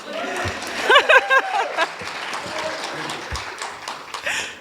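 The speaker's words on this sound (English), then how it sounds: "you can clap if you want to" Audience applause at a youth justice panel convening, light clapping mixed with cheers and chatter, with a high whoop and scattered voices over a moderate, steady wash.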